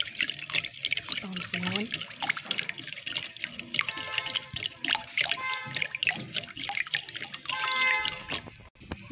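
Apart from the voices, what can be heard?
mixing brioche dough mixture with eggs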